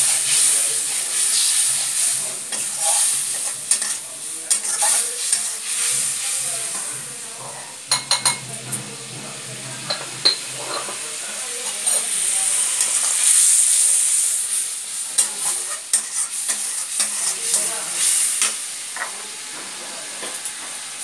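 Shrimp, kachur loti and garlic paste stir-fried in a pan with a splash of water, giving a steady close sizzle and hiss with scattered stirring scrapes and clinks throughout.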